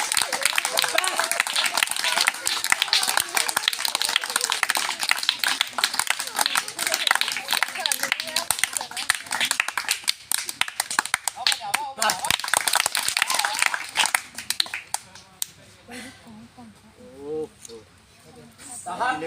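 An audience claps, dense rapid clapping that stays loud for most of the stretch before thinning out near the end, mixed with voices and crowd noise.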